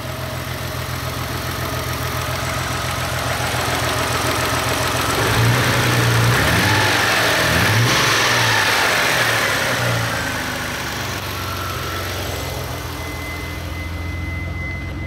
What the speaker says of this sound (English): The exhaust doesn't sound too bad.